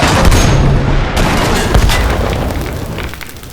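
Loud, sustained booming gunfire and artillery-like blasts crowd a wartime battle scene set in Normandy in 1944.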